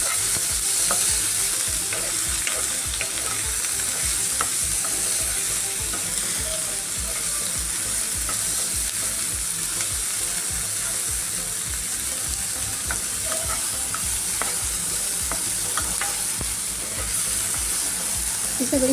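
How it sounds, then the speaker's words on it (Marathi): Chopped onion and tomato being stirred and fried in a pan for a papdi (flat bean) vegetable dish, a steady close sizzle with spatula scrapes throughout, without talk. "आता कांदा टोमॅटो परतत आले"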